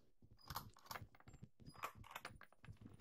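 A gun is reloaded in the video game Pavlov, with a quick series of close mechanical clicks, rattles and ratcheting clacks from the weapon's action.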